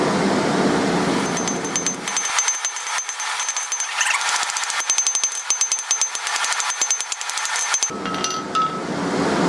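Hot steel being forge welded with a folded faggot weld while forging an animal head, giving a dense run of rapid metallic hammer clinks on the anvil, loud and close, with no talking.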